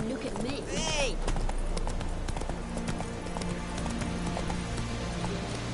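Roach, the horse in The Witcher video game, gallops with steady hoof clatter under a dense mix of game sound, with a brief whinny-like sweep near the start.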